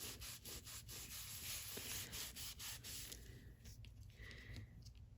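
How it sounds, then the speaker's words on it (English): A towel rubs excess wax off a paper doll with steady, rhythmic swishing strokes, close and soft, easing off partway through into quieter rubbing. "I want to grab my towel and just go over top. So I'm kind of taking the excess wax off of it."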